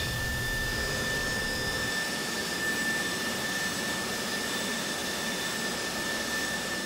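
Steady jet engine roar from an Airbus A320 Neo in the X-Plane flight simulator, a continuous broadband whine with a thin high tone running throughout, the low rumble easing after the first couple of seconds, with no talking.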